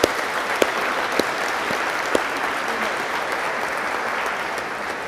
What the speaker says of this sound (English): How about a round of applause for our distinguished visitors?